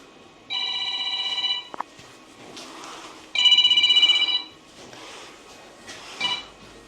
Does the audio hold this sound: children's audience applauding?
no